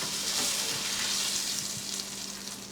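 Flounder fillets fry with garlic in a pan, giving a steady close sizzle with faint crackles that softens slightly toward the end, with no talk over it.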